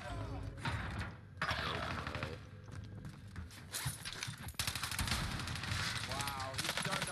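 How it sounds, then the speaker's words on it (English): Rapid gunfire bursts in a Call of Duty: Warzone Rebirth match, with repeated shots from close range and to the right, mixed with footsteps and scattered mechanical clicks while a player talks over the action. "I'm getting shot from the right on the ground."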